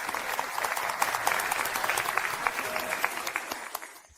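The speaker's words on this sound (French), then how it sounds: "Applaudissez, s'il vous plaît." Audience applause at a corporate event greeting a group's CEO: dense, steady clapping from a crowd, sustained throughout and thinning slightly near the end.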